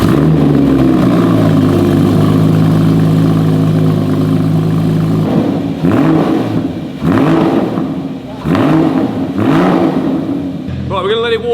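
Porsche GT4 engine fired up for the first time with a new exhaust: a loud crank and catch, then a steady rumbling idle punctuated by several sharp throttle blips, close to the microphone.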